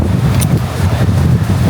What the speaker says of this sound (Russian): Дует дикие ветрище.